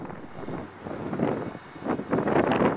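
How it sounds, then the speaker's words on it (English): Gusty wind buffets and rushes in uneven swells at an RC flying field, with the low drone of a scratch-built ducted-fan YC-14 model park jet underneath. "It's windy conditions."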